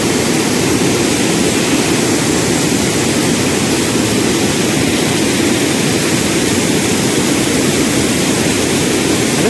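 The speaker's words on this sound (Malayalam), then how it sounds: "ഇവിടെ ഇതാണ് നമ്മുടെ വെള്ളച്ചാട്ടം മക്കളെ." Athirappilly waterfall roars at full force: a loud, unbroken wash of rushing water, close and constant from start to finish, with no voices.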